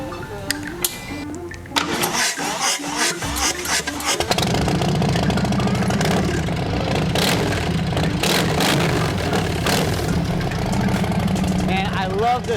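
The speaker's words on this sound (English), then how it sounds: "we're gonna go ahead and fire up this bike and see how it sounds" Softail bagger motorcycle with a Blow performance exhaust fires up and settles into a loud, steady, throbbing idle that runs close and continuous after a brief start.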